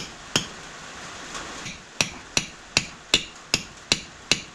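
Sharp hammer blows strike a nail into wood, a few scattered hits then a steady run of about eight evenly spaced knocks.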